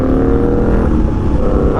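An Indian Scout motorcycle accelerates hard through the gears, its engine note loud and close with a rising, throaty rumble over about two seconds.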